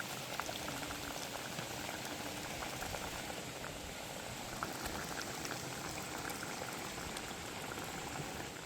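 Curry bubbling and simmering in coconut milk in a village kitchen pot, a dense continuous boil with fine popping bubbles, close and steady with no talk.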